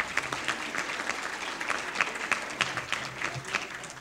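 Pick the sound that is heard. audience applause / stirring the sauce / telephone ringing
audience applause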